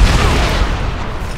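A loud explosion in the zombie action game Dead Rising 3, a heavy booming blast that opens the clip and rolls into a dense, rumbling wash of noise for over a second, with no talk.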